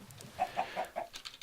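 Chickens in the video game Minecraft cluck in a quick run of four short, evenly spaced notes, fairly faint and close, with no talking.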